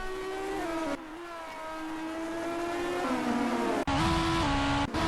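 Race car engines scream down the main straight in a racing video game, a loud sustained high-revving note that climbs, dips at gear shifts and climbs again, with no voices.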